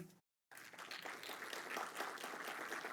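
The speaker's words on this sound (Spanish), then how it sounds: "Un aplauso, por favor." A conference audience in Mexico breaks into applause after a short silent gap, dense sustained clapping that stays fairly even and moderately distant to the end.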